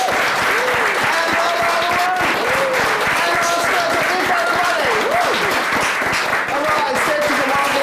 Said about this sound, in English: give one more clap to Mike, everybody!